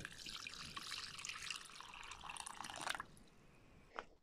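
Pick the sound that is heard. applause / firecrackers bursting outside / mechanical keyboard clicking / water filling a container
water filling a container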